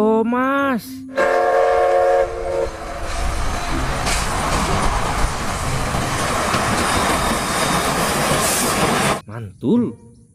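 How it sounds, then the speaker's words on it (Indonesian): A toy Thomas train plays its sound effect: a whistle-like toot, then a long busy rumble of rolling, clattering noise, loud and close, with an excited voice talking just before and after. "Wow, yang ini kereta api Thomas."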